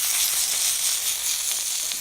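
Steak sizzles loudly on an oiled sizzler pan in a hot Uuni Pro oven, a dense, steady crackling hiss with small pops, close and continuous.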